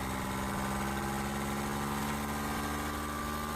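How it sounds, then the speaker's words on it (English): Universal M25 marine diesel idling aboard a 1988 Catalina 34 sailboat, a steady low throbbing hum with a constant tonal drone and faint vibration, continuous and close with no talk. "Here's the motor running."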